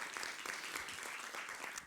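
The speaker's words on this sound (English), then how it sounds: "So can we just have a big round of applause for Sunny's dedication to this?" An audience gives a round of applause at a conference session, many hands clapping in an even, continuous patter, fairly quiet and distant.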